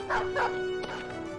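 War dogs barking in the Battle Brothers video game: two short, loud barks close together near the start, then a sharp yelp, all over a steady game hum.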